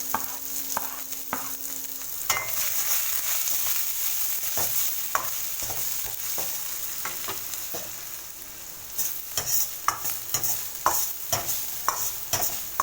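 Garlic, ginger, green chillies and onions frying in a pan for veg Manchurian, giving a continuous close sizzle with repeated sharp scrapes and taps of a stirring spoon, no talking.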